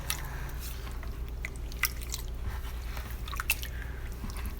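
Salt being stirred into cheese curds, producing soft wet squishing and scattered faint ticks and scrapes at close range with no voice.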